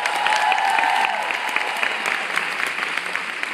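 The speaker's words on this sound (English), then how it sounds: "So let's give a big round of applause for our nationals." A crowd at a 2013 sales career conference breaks into loud, close applause, a thick wash of clapping with some crowd noise that carries on steadily from start to finish.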